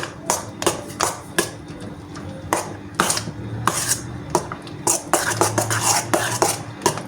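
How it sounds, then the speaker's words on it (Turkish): A spoon stirs no-bake cheesecake filling in a bowl, making a close series of scraping swishes and frequent clinks of metal against the dish in an uneven, busy rhythm. "Şimdi şöyle bir kaşık yardımıyla artık karıştırıyorum"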